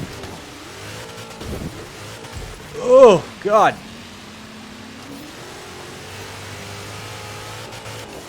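AMG Transport Dynamics M12S Warthog racing in Forza Horizon 3, its engine droning steadily, then rising through two quick rev bursts before settling back to a low hum, with someone talking over it.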